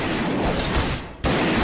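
Gunfire from a gun in Garry's Mod DarkRP: dense, loud, rapid shots filling the moment, with a brief gap before the firing resumes.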